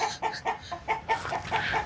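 A hen clucking repeatedly in short, rhythmic bursts, fairly close and clear, with no voices.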